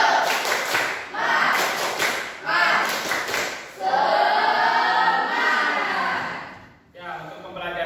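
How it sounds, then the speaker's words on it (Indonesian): A classroom of students claps a patterned rhythmic cheer together, with bursts of synchronized claps followed by a longer sustained stretch of clapping and voices, close and loud. "Coba mana tepuk semangatnya?"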